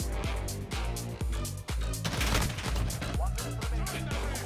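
Rapid bursts of gunfire from the Modern Warfare video game, loud and repeated in quick succession with brief gaps, over a busy game soundscape with a voice faintly present.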